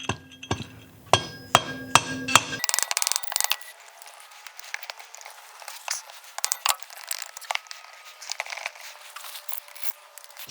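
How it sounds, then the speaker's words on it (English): A mallet taps a Honda TRX450R engine cylinder down onto tight cylinder dowels in a workshop, with a quick run of sharp knocks followed by softer scattered taps and clicks. "Just tap it down with a mallet."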